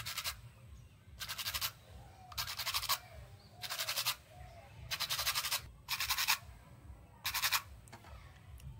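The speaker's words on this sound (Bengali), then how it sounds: "এইবার হালকা একটুখানি জলে ভিজিয়ে আমি ব্রাশ দিয়ে এর মুখগুলো ভালো করে পরিষ্কার করব" A stiff brush scrubs a water-dampened rudraksha seed in seven distinct bursts of scratchy bristle noise at a steady rhythm, set close against a low constant hum.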